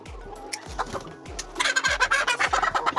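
Layer chickens being reared in a poultry house call and cluck in a busy, overlapping chorus, growing denser and louder in the second half, with regular low thumps underneath.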